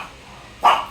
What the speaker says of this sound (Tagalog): may kahol ng kahol